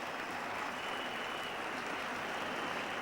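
A cricket crowd at Headingley applauds steadily during the 1984 England v West Indies Test as Malcolm Marshall walks out to bat with his left wrist in plaster; dense, even clapping fills the clip without a break.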